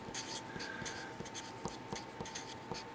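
Pen or chalk writing out a maths expression, with quiet scratchy strokes and small taps in an irregular rhythm, close by and faint, with no talking.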